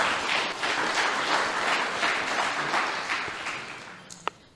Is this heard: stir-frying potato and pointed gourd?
no